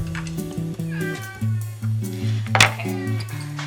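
A pet cat meows in a home kitchen while peppers are being diced for tuna wraps, the cry rising and falling once or twice over a steady musical bed with clinks nearby.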